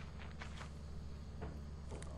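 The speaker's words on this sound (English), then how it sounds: "Oh no. Those are the bees." Buzzing of bees in the video game Lethal Company, a faint, steady insect drone with brief louder swells over a low background hum.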